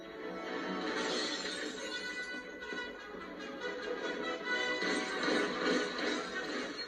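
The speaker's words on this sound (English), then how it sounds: "Suddenly, the windows shatter." Passenger carriage windows of a speeding train shatter in a long, loud spray of breaking glass, a crashing, crackling burst lasting several seconds, with a clattering, hoof-like rumble mixed into the din.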